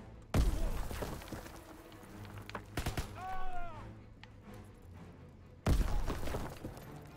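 Grenade explosions in Call of Duty: WWII, with two sharp, loud blasts several seconds apart, each trailing into a rumbling decay over quieter game noise.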